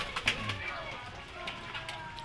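Pet homing pigeons coo softly at close range, with low throaty calls over a steady background hum and a few light rustles and clicks.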